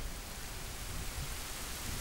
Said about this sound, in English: There's rain. Rain and lightning.